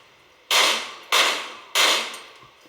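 Three sharp, evenly spaced shots from a Ruger rifle fired in semi-auto from a 20-round magazine, each loud crack trailing off quickly before the next.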